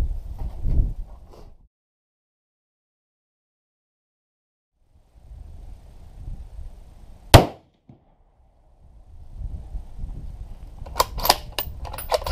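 A single sharp crack from a Ruger Precision .308 rifle at an outdoor range stands out between stretches of quiet and low rustling handling noise.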